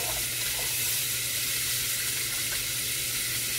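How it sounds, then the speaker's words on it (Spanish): Water poured over raw chicken pieces in a kitchen to wash them, a steady close running-water wash with a constant broadband hiss throughout. "Now I'm going to add some water."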